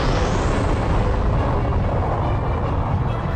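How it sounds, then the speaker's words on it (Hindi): Continuous loud, dense rumbling blasts from a fight between Vegeta and King Zeno in an animated Dragon Ball film, a steady roaring wall of explosive noise filling the whole stretch with no pauses or talk. "और उनकी लड़ाई से बहुत ही तेज धमाके होने लगते हैं।"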